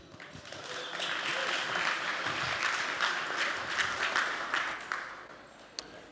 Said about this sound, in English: I want a big applause for Christian Bennek.